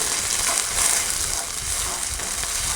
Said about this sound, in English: And I'll fry my cabbage off for about 1 to 2 minutes, just so it's not raw any longer.